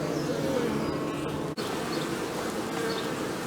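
Honey bees at a busy hive make a dense, continuous buzzing hum, with individual bees droning past close by and a brief dropout midway.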